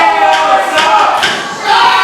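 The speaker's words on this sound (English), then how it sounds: "The crowd trying to get Theo back into this match." A crowd at a GLWA Summer Bash 2024 wrestling match cheers loudly and keeps going, swelling in a few surges with a brief dip before building again.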